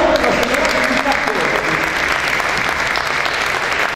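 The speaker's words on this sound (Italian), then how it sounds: "Un bel applauso" Applause fills the hall at an awards ceremony, a continuous, fairly loud rattle of many clapping hands, with a voice briefly audible at the start.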